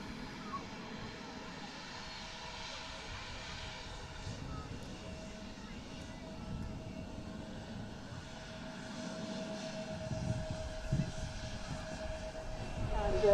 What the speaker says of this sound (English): just touching in front of us there is the hop that's operating on behalf of Air France to Charles de Gaulle